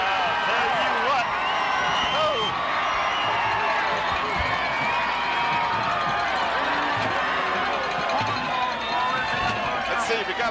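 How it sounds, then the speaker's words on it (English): A crowd at a Bethel Bruins vs. Huguenot Falcons high school football game roars and cheers during overtime, a continuous wash of many voices and shouts at constant loudness with scattered clapping beneath. "Let's listen to the crowd."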